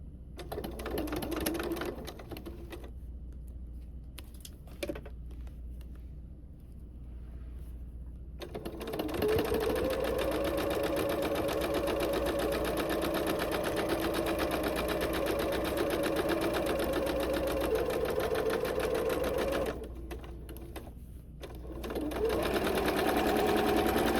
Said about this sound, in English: We are only going to sew one side of our hat up